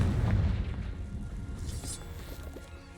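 The Confringo fire spell going off in Hogwarts Legacy: a deep, rumbling explosive boom that fades out over a few seconds, with a faint crackle near the end.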